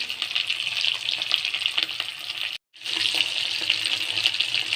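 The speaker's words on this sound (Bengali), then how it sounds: "একই প্রসেসে আমি সবগুলোই ভেজে নেব এইভাবে।" Chicken pieces for chilli chicken fry in hot oil, giving a continuous bubbling sizzle with light crackles and a brief break in the middle before the steady frying resumes.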